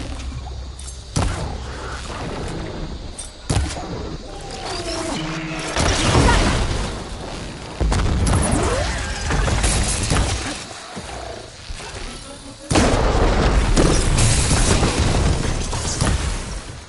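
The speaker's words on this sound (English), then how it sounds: "Mine launcher!" Mine launcher blasts in Horizon Forbidden West, with several loud, close booms and crashing bursts spaced irregularly over a constant rumble of game ambience and music.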